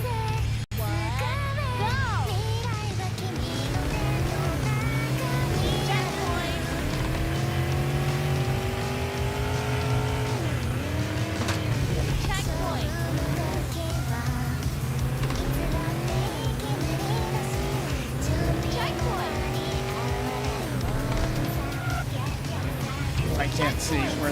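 A racing game's car engine whines and revs continuously with repeated rising pitch sweeps as it accelerates and shifts, loud and close throughout, with squealing tire tones layered in.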